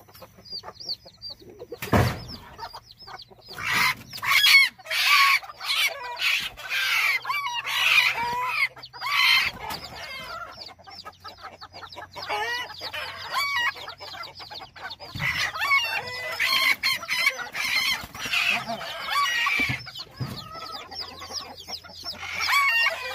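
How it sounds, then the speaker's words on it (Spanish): Chickens and chicks cluck and cheep close by in a coop area, busy overlapping clucks and high peeping calls throughout, with occasional louder squawks and bumping noises. "ahorita vamos a sacar los pollitos"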